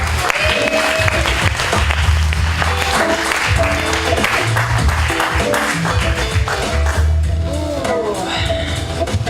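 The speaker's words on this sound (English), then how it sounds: "So, give Janica a round of applause, everyone." An audience at a poetry slam on Kauaʻi applauds loudly and steadily throughout, with cheers and voices mixed into the clapping.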